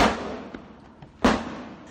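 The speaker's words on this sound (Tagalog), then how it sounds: "Umalingaw-ngaw ang mga putok sa bahaging ito ng tipo-tipo Basilan kaninang umaga." Gunfire echoes across Tipo-Tipo, Basilan, with a sharp loud crack at the start and another near the end, a softer distant pop between, each trailing into a long outdoor reverberation.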